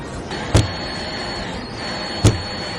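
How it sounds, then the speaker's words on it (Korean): A power drill rattles with two short, loud clunks about two seconds apart while a DIY wine rack is built, the bit not pressed down firmly enough, over a steady motor hum. "방금 그렇게 덜컥덜컥 소리가 나는 이유는 눌러주질 못해서 그래요."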